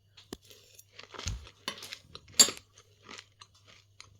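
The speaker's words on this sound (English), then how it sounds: "I'm going to be chewing while I talk to you" Someone chewing a spoonful of food close to the microphone: quiet irregular crunching and mouth clicks spread over a few seconds, with a low steady hum beneath and no talking.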